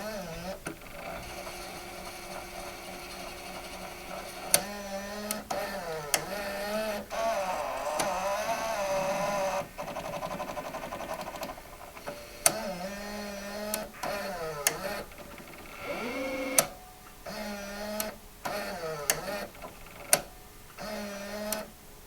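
Sony EVA-300UB Video 8 deck loading and lacing a tape: motors whir and rise in pitch, mechanisms click and clunk in irregular bursts with brief pauses, and a rapid ticking runs near the end, all close and fairly quiet.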